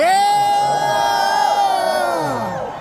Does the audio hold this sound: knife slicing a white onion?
no